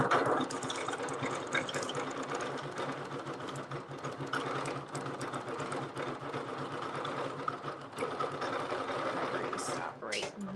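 A sewing machine stitches in a continuous rapid mechanical whir close by, running steadily for about ten seconds before stopping, with a person talking over it.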